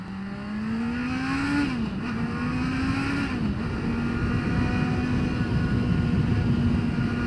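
A 2022 Honda CBR650R pulls away and rises in pitch through the gears, its steady engine drone and wind roar close and continuous, with brief dips at the shifts.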